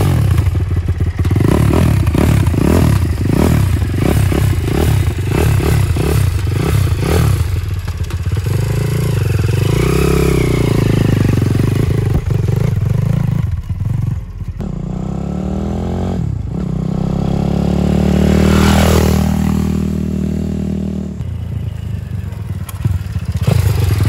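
A freshly assembled pit bike engine starts and runs during break-in, a loud close buzzing idle with revs that rise and fall, plus clattering and scraping at the start.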